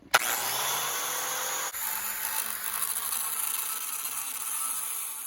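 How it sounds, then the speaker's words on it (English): Metal being cut off the handle of an Old Hickory knife, a steady high whine of a cutting tool running close and continuous after a short sharp start, with one brief dip partway through. "I'm gonna cut the metal off right here above this rivet hole."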